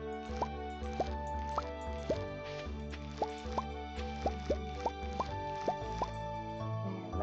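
Watering crops in the Stardew Valley video game produces a steady series of soft, plopping water-drop effects, roughly a dozen in quick uneven succession over a background music track, with no talk.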